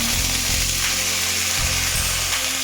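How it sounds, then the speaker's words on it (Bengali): Washed chana dal frying in hot white oil in a wok, a steady loud sizzle and crackle running throughout without a break. "ছোলার ডালটা ভাজার জন্য আমি কড়াইতে যে সাদা তেলটা দিয়েছিলাম, সাদা তেলটা আমার গরম হয়ে গেছে"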